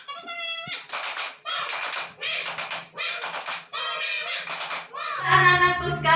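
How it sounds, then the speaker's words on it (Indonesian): Children in a classroom clap in a steady rhythmic pattern for a tepuk semangat chant, bursts of claps alternating with chanted call-and-response voices, ending with a louder sung line. "kita tepuk semangat dulu ya."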